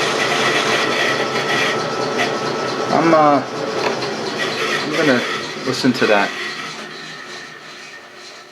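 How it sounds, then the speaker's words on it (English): A worn mill motor with bad bearings, mounted on the machine's underdrive, runs with a steady grinding, screeching drone while someone talks briefly over it; the noise fades toward the end. "That's the sound of bad bearings."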